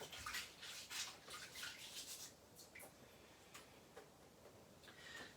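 A stencil coated in texture paste is scrubbed in water, giving soft, irregular brushing and splashy ticks, faint and close, with no talking.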